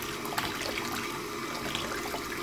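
Water from a Lazy-Spa Hydrojet Pro hot tub pressing down soft spa filter flaps, a steady close rush and trickle of running water with faint splashes throughout.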